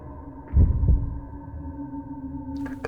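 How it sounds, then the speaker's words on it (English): In the horror video game Fatal Frame 3, a heavy low heartbeat thumps twice in quick succession near the start, over a sustained eerie drone that continues to the end. "I can also hear my heartbeat."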